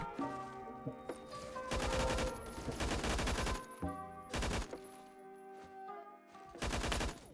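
SCAR rifle gunfire in the Phantom Forces video game, heard as several bursts of rapid shots separated by short pauses, crisp and close.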